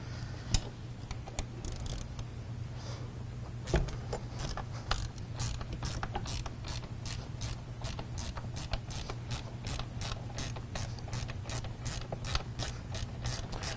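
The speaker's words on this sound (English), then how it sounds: "Yeah, I'll need that wrench." Wrench ratcheting bolts during a seat install in a 2002–2006 Ford F250/350, a long run of rapid, regular clicks, close and moderately loud, with no talking.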